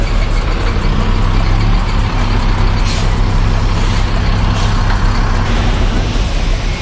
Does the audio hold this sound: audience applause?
no